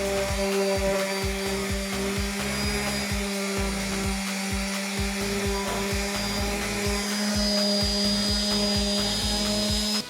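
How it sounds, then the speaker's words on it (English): Wood is sanded smooth with 220 grit sandpaper, most likely with a power sander, making a constant close whining drone with a rapid fluttering low pulse throughout. "Then smooth everything out using 220 grit sandpaper."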